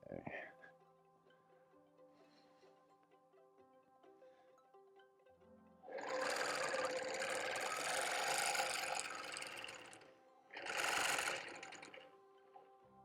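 A sewing machine stitches an orange peel quilt in two bursts, a long steady whir followed by a shorter run, with quiet gaps and faint tones between them.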